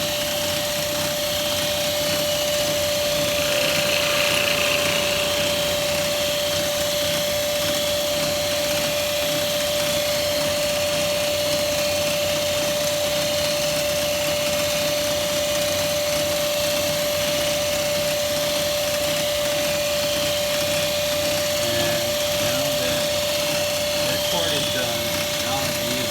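A Smithy 1220XL lathe-mill face milling a part, giving a steady loud motor whine with a constant high tone that runs unbroken throughout.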